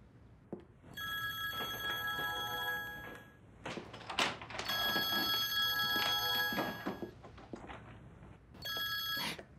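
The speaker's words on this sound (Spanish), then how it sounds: "Ah, el teléfono." A telephone rings in repeated electronic bursts, two long rings separated by a short pause and a third beginning at the end, sounding clear and fairly close in a quiet indoor room with no talking.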